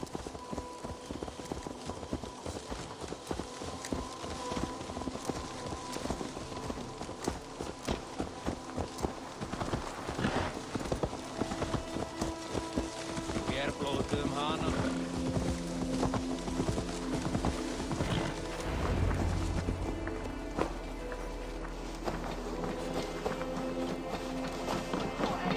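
Steady, close hoofbeats of a horse clip-clopping in Assassin's Creed Valhalla roll on throughout under a soft ambient wash, without speech.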